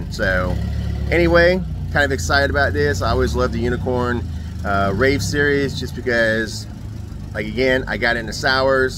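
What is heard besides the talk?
forklift or tractor working in the background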